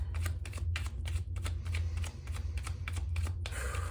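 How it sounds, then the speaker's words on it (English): Tarot cards being shuffled and cut by hand, a quick run of rhythmic riffling snaps close to the mic over a low steady hum, with no talking. "I'm gonna shuffle and cut first."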